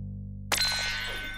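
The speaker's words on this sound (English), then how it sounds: "It's the Doodlebop Red Hot Phone!" The Doodlebop Red Hot Phone, a toy phone, rings after a moment of near silence. It comes in as a single sharp metallic clang that rings on and fades, heard alone with a faint low hum underneath.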